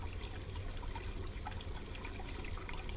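Water in the Black Mirror 2 video game runs and bubbles in a steady, low, continuous wash that sounds like flowing from a tap, quiet and unbroken, with no talking.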